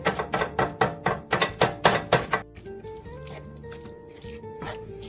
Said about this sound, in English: try to scrape as much of that oil off into the pot